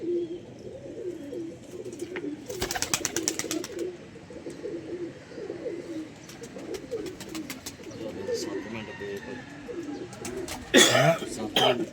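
Pigeons coo on a rooftop in Lahore, a low repeated cooing running through the whole stretch while people talk nearby, with sharp clatters and a loud burst near the end.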